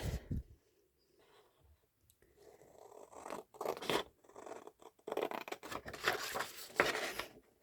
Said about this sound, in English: So I'm going to cut this one here. I'm going to be brave and use scissors.